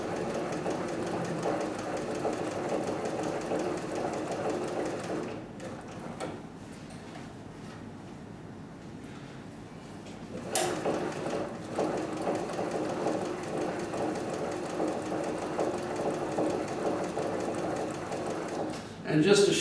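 A leather sewing machine stitches in a steady rapid mechanical whir with ticking needle strokes, pausing for a few quiet seconds midway, then running again close and clear.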